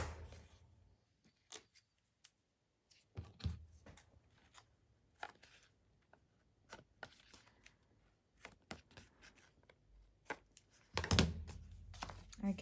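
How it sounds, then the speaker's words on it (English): Small scissors snip the corners off a collage paper piece cut from a masterboard, giving scattered quiet clicks and snips with soft paper handling between them, close and faint. "I'm going to snip the corners off as well"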